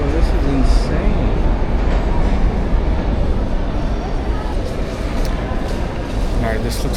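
A subway train runs through a busy domed metro station in Tashkent, giving a loud, steady rumbling roar with rail rattle throughout, close and continuous, with crowd noise and voices mixed underneath.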